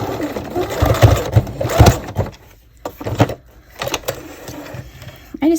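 Sewing machine running on its lowest stitch setting over the elastic of a small doll tutu, in short close bursts of rapid mechanical whirring and thumping separated by brief pauses.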